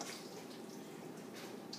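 Milk mixture poured into a tres leches cake, a steady soft liquid trickle and splash that runs quietly and evenly throughout, close by with no talk.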